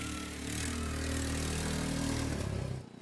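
Quad bikes drive around a school yard during a patriotic event, giving a loud, steady droning engine buzz that cuts out near the end.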